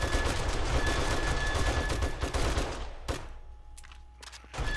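Gunfire in the survival game 7 Days to Die, a fast rattling volley of shots for about three seconds, then a few isolated cracks in the quieter stretch that follows.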